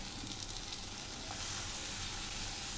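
Vegetables such as capsicum, carrot and peas hit a hot pan of spicy Veg Kolhapuri masala, giving a steady, even sizzling hiss that stays constant throughout, close and moderately quiet with no talking.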